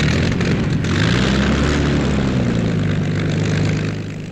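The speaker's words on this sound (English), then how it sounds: "Engines burst into life." RAF tank buster aircraft engines starting up and roaring, a loud, close, steady propeller-engine drone with a rising pitch that holds throughout before easing slightly at the end.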